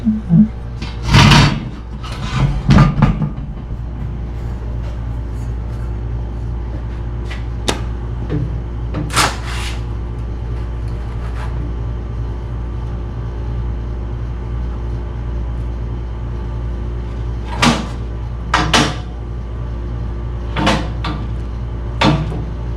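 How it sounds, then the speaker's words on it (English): Sheet metal brake bending a flange on a curved piece: a few sharp clunks and knocks spaced apart over a steady low hum, with quieter stretches between. "so now I'll go over and bend it on the brake"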